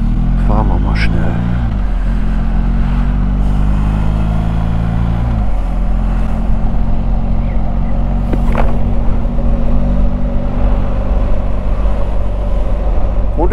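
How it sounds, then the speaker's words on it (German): A BMW R 1250 GS motorcycle engine drones steadily while riding, its pitch dropping and climbing through a couple of gear shifts, with occasional voices under the noise. "Und ist das Motorrad immer noch zu laut?"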